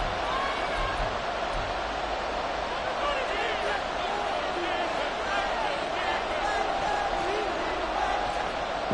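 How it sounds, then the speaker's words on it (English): A football stadium crowd late in the fourth quarter of a close game, a continuous loud roar of many voices with no breaks, steady and enveloping throughout. "this crowd is making an impact right now"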